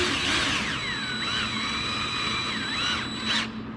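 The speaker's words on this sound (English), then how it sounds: "so I'm going to put that screw in first" A power drill drives Kreg jig pocket-hole screws into the wooden skirt of a coffee table, with a continuous whining motor that rises and falls in pitch and then stops abruptly, heard close and alone.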